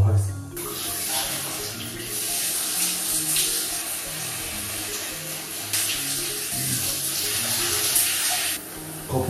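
A shower runs in a hotel suite bathroom, a steady broadband hiss of spraying water that shifts in intensity as the flow is interrupted and resumes, close and continuous.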